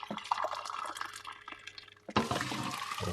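Pre-boiled hot water pours from a kettle into a cooking pot, a soft trickle that gives way to a louder, fuller gush of liquid near the end.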